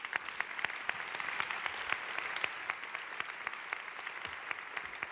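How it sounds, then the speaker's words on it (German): Audience applause at a Vienna talk event welcomes a guest to the stage: steady, dense clapping with sharp individual claps standing out, moderately distant and continuous for several seconds without speech. "Einen großen Applaus bitte für Jojo Meter."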